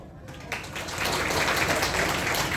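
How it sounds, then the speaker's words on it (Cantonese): Wedding banquet guests break into applause, a broad wave of clapping that swells after a brief quiet start and holds steady, with voices mixed in. "非常多謝大家俾我舞台上面嘅掌聲啊"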